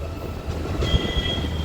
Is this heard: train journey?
yes